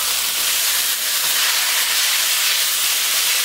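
White onion sizzling hard in a hot stir-fry pan with Prik Ki Nu peppers for Thai drunken noodles, a steady loud hiss throughout with no talking.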